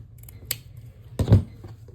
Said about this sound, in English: we are going to cut off the excess tail again